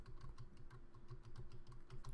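Rapid, uneven clicking of computer keys being typed, quiet and close, continuing without pause and with no voices.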